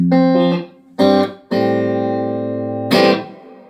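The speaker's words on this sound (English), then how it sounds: "we managed to make that reverb very accurate to that sound, but also make it super usable as a normal like hall reverb" Electric guitar through a Paul Davids Nucleo hall reverb pedal: a few sustained chords ring out with a long, lush tail, played loudly and alone.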